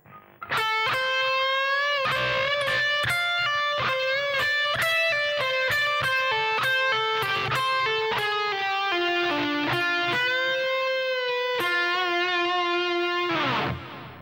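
A distorted electric guitar plays a solo phrase: a quick run of clear picked notes with bends and slides, sustained and loud, ending on a held note that cuts off.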